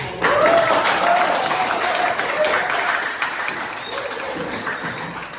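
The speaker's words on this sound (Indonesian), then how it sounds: "Sebelumnya tepuk tangan dulu." Classroom applause from students in a vocational school maths lesson, a burst of many hands clapping that starts abruptly and slowly thins out, with voices heard among the clapping.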